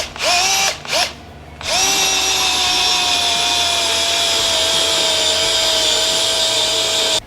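A power drill drives a heavy-duty offroad scissor jack to lift the rear straight axle of an INEOS Grenadier; two short whirring bursts are followed by one long, loud, steady drill whine that runs to the end.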